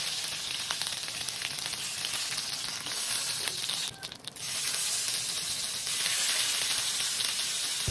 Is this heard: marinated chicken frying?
yes